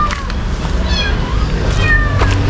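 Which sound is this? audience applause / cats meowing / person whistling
cats meowing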